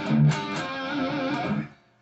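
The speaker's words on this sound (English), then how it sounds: "So that little outro sounds like this." An electric guitar plays the short outro of a song, a couple of quick picked notes ending on a sustained chord with vibrato that rings out and then cuts off.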